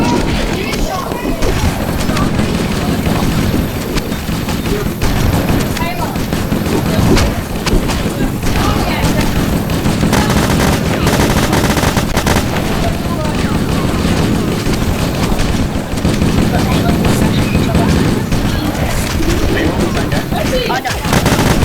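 Dense gunfire and explosions fill a battle in the Halo video game, loud and continuous throughout, with excited voices talking over the combat.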